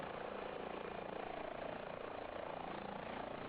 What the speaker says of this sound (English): now the helicopter is automatically moving into position